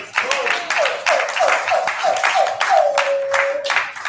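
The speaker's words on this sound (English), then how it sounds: "Give him a round of applause," An audience gives a short round of clapping at a community event in Atlanta, a quick burst of hands with whooping, tonal voices sliding over it in rhythmic repeated calls.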